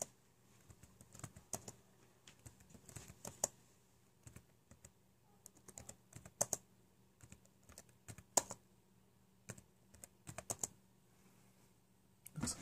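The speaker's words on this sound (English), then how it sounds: "Just keep typing TLD, TLD enter, TLD enter, TLD enter." Computer keyboard typing comes in repeated bursts of quick, crisp key clicks with short pauses between them, close and fairly quiet, during firmware recovery of a bricked Comfast WR650AC router.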